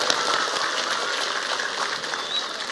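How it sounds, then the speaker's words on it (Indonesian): Crowd applause at a religious sermon gathering in Indramayu, a dense, even wash of many hands clapping that holds steady throughout without a break. "Tepuk tangan untuk Indramayu."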